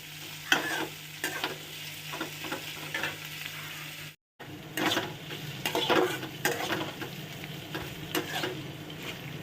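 Onions fry with salt in a pan, a continuous soft sizzle broken by repeated scraping stirs and light utensil knocks. A brief dropout falls near the middle, and no one speaks.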